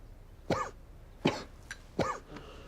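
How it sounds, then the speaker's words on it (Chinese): Three distinct coughs spaced about a second apart, close and clear, followed by a faint throat-clearing sound, in a quiet room. "怎么咳嗽了？"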